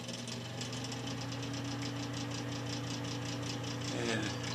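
An old Broan bathroom ceiling fan running noisily, a steady motor hum with a fast rattling, knocking pulse held throughout, close and continuous.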